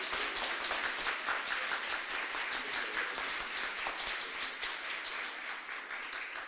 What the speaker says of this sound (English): If we could have one more round of applause for all of our award winners.